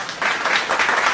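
Audience applause at a church gathering, a burst of many hands clapping together that rises quickly and stays steady and fairly loud, with no talk over it.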